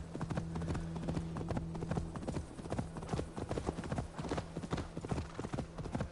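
Horse hooves clip-clopping at a steady trot in Assassin's Creed Valhalla gameplay, loud and close, with rhythmic hoofbeats running throughout.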